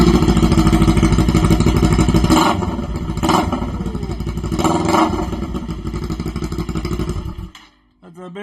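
A 2023 Kawasaki Ninja 400 fitted with an aftermarket eBay exhaust idles loudly nearby, then gets several sharp throttle blips before dropping back. A brief voice is heard at the very end.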